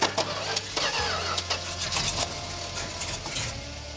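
A 1970 Hemi Cuda Mopar engine cranking on its starter, a steady, continuous churning drone that keeps turning over without catching.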